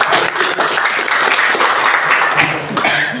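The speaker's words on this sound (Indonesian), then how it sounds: "Tepuk tangan untuk" A church congregation at a Sunday worship service claps together in loud, close, sustained applause, with a few voices and a cough mixed into the crowd noise.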